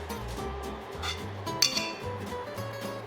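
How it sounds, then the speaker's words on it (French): Two metal spoons scrape and clink while shaping cod fritter batter into quenelles in a kitchen, with light irregular taps and one sharper clink near the middle over a faint low hum. "À l'aide de 2 cuillères, vous faites des petites quenelles"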